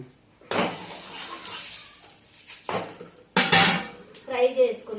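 A spoon clanks and scrapes against a metal pot of chicken curry being stirred, in loud separate bursts with short pauses between them.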